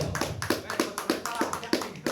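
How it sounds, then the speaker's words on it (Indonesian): A small group at an indoor community gathering claps in a loose, regular rhythm, about seven distinct beats spaced evenly, fairly quiet and close, with faint voices underneath. "Tepuk tangan dong."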